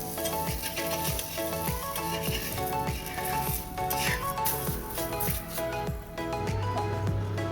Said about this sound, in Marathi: दुसरं पण धपाटा असंच भाजून घेऊया आपण